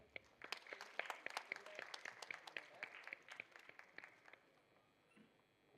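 An audience at a youth entrepreneurship event breaks into applause, a burst of scattered hand claps that thins out and fades after about four seconds.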